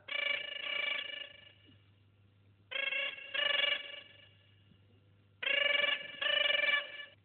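A telephone rings in three clear bursts, each made of two quick trills, separated by short quiet gaps, loud and close with nothing else heard.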